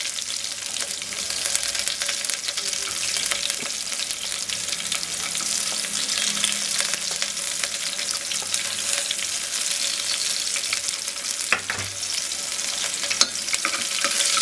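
Onions fry in a pan with dal for a four-vegetable tamarind curry, giving a loud, dense, continuous sizzle close by, with a few faint stirring scrapes and no talking.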